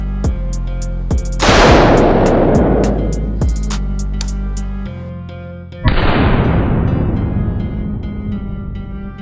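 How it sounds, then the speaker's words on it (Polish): Gunshots are fired at a heavy Indygo building block wall, with loud sharp cracks followed by long booming decays, two main blasts several seconds apart amid smaller impacts. "To jest kwestia tylko jednego jeszcze strzału."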